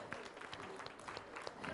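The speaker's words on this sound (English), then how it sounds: "a big round of applause from all of you is required" A short, faint round of applause from an audience at a national forestry project workshop, scattered claps heard from a distance with some voices mixed in.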